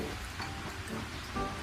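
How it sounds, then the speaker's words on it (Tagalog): Rain falling outside a home in an animated Filipino household scene, heard as a steady, soft broadband hiss that runs evenly through the whole moment with no voices. "Mama, umuulan po."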